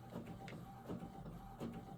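An Epson ET8550 inkjet printer feeds and prints a card on thick paper, giving a steady mechanical whirr with rhythmic carriage passes and soft clunks, close and fairly quiet, with no talking.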